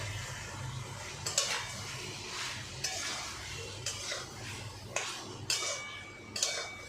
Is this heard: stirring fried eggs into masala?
yes